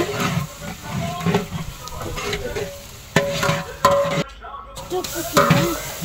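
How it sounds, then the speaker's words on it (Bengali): Chopped onions with bay leaves and spices frying in a pan, a steady moderate sizzle with intermittent stirring scrapes and clatter. "দেখুন, পেঁয়াজটা খুব ভালো করে ভেজে নেবে।"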